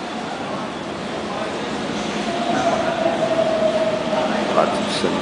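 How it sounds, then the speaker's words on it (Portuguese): A metro train rolls through Tamanduateí subway station, a broad steady rumble that swells midway, with a faint thin wheel squeal riding over the roar. "Metrô passando por ali."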